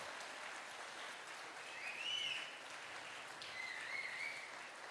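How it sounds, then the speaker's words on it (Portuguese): A church congregation claps in praise, a faint, steady patter of many hands with brief whistle-like tones rising over it. "Você pode aplaudir ao Senhor?"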